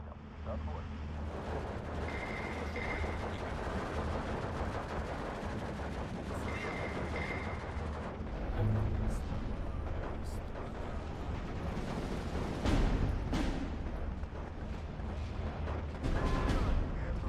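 Artillery counter-battery fire in the Steel Division 2 war game pounds against Soviet 122 mm guns, a dense, continuous barrage of booms and gunfire with sharper impacts cracking through now and then.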